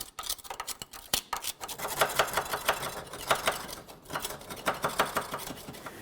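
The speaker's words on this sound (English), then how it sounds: "clean and inspect both of those mounting areas. For this, you can use a scraper, some sandpaper" Scraping and sanding clean the control arm mounting areas on a 1998-2011 Ford Ranger, giving a close run of irregular rasping strokes and gritty rubs in uneven bursts, with no talking.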